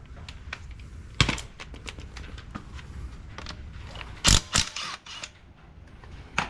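A ratchet works a 10 mm bolt on an Evo X clutch, giving a run of light, quick ticks and clicks. A few sharper metallic clacks follow, all at close range in a quiet garage.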